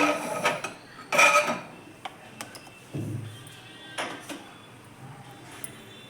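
A small kadai pan is set down on a home kitchen stove while preparing masala for masala puri, giving a few faint metallic clanks and knocks spread over several seconds with no talking.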